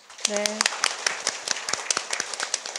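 Attendees at an executive staff meeting clap in scattered, distinct claps, moderately close, with a short voice at the start.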